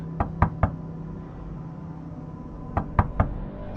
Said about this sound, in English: knocking echoed from somewhere inside the walls